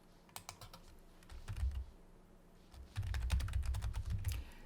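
Close, quick tapping on a computer keyboard while making a Google presentation: two bursts of rapid clicking keystrokes with a brief pause between, and no speech.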